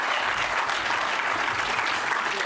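Audience applause at a startup accelerator showcase live event, steady dense clapping from a crowd filling the whole moment with no breaks.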